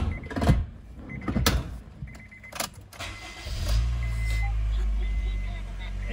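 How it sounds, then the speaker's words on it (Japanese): A 2006-onward-style Honda Fit 1.5 RS with a six-speed manual cranks and catches around the middle, then settles into a steady low idle, with some handling noise and clicks before it starts. "ちょっとエンジンをかけてみたいと思います"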